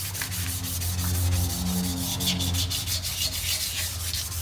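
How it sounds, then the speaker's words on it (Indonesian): An engine block from a used, overheated Isuzu Panther being scrubbed clean of crust with diesel fuel, a steady close rubbing and brushing that runs throughout with rapid repeated strokes. "Ini bloknya ini kesemuanya kita gosok menggunakan solar sampai bersih, sampai keraknya hilang."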